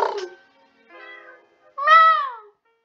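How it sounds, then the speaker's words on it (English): A pet cat meows indoors: a short call, a softer chirping mew, then a longer drawn-out meow, clear and close with quiet gaps between. "Yeah, my cat Lulu that goes like all the time."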